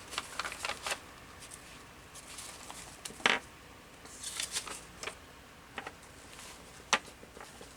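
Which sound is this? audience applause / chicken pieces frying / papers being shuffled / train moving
papers being shuffled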